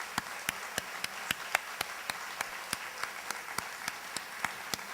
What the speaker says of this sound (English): We have one more round of applause for these amazing puppy raisers.